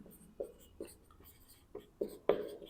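Chalk or marker strokes on a classroom board during a science lesson, several short separate taps and scrapes spaced apart, growing slightly louder toward the end, no voice heard.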